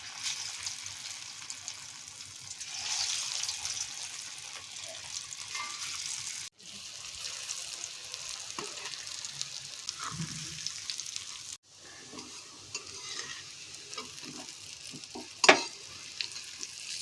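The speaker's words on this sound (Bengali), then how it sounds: "এরকমভাবে ভেজে নিতে হবে তেলে দিয়ে ধোকাগুলোকে।" Dhoka lentil cakes frying in hot oil in a wok, giving a steady close sizzling hiss that runs without talk, with two brief cuts and a sharp utensil clatter near the end.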